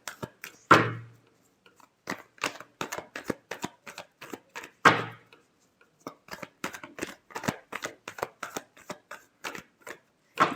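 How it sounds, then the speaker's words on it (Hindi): Tarot cards being shuffled by hand, a run of quick crisp riffling flutters and taps, close and fairly quiet, with a few stronger riffles standing out and no talk over it. "last shuffle"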